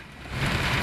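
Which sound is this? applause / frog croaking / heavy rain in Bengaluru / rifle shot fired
heavy rain in Bengaluru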